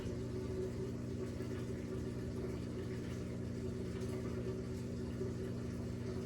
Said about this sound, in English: It's my washing machine.